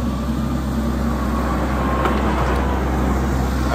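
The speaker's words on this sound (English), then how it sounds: "Oh, it's a tractor." A tractor rumbles past outdoors, a steady low engine drone holding at a constant level, with a faint swell in the middle as it goes by.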